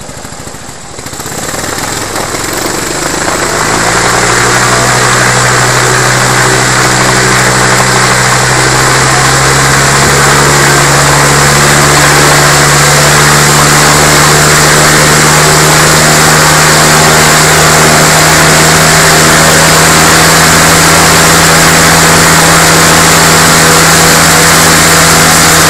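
GX200 Skybolt Eggmotor paramotor engine catching after a quiet start, then running loud and steady at a constant buzzing idle with a slight rattle from the recoil starter, close up for the rest of the stretch.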